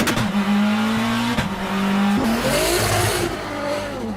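Racing cars from the anime MF Ghost roar past with rising and falling engine whines, shifting pitch as they accelerate. Tires squeal sharply near the end. The sound is loud and close, with no speech.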